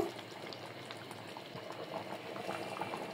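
Lentils of three kinds and country chicken simmer in a pot, bubbling with a soft, continuous close-up burble at low volume, with no voices.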